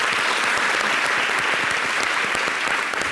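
A TV studio audience breaks into steady, dense applause for guests on a variety show, the clapping loud and continuous throughout with no pauses.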